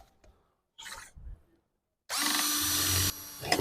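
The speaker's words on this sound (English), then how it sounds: "I'm just drilling the hole." A power drill bores a hole in a commercial door frame head while weatherstrip is being installed, running as a loud, steady whir for about a second and a half after a few short handling noises.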